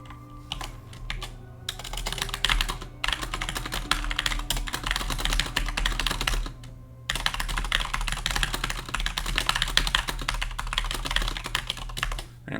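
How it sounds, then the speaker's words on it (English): Fast typing on a computer keyboard, a dense rattle of key clicks over a low steady hum, broken by two brief pauses, close and loud with no voices. "sorry, I shouldn't have been typing here"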